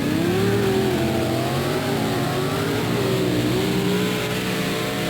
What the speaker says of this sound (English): both trucks were just pouring on the power.